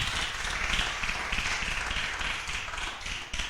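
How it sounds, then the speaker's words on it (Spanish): A church congregation claps together in praise, producing dense, steady applause that holds at an even level for a few seconds, close and full, with no voices over it. "Fuerte aplauso para el Señor."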